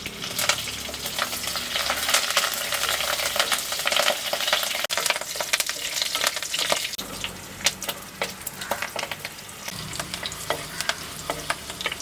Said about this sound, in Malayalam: നമ്മൾ അരപ്പൊന്ന് വഴറ്റിയെടുക്കുകയാണ്.